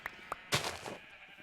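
Minecraft sheep giving two quick, close bleats followed by a louder, broader blurt of sound, all within a brief moment over a faint hiss.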